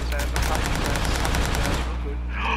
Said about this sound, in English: I'm gonna take shots.